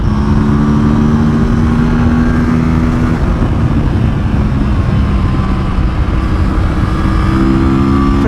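An Aprilia RS457 motorcycle engine pulls hard in fourth gear on an open road, a loud, steady, close droning roar with wind rush and slight shifts in pitch as it accelerates.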